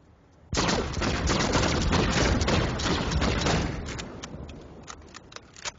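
A Planetside 2 Infiltrator weapon fires full auto until the magazine is empty, a loud close stream of rapid shots that starts abruptly and lasts about three seconds, then dies into a few scattered clicks and taps, with no voices.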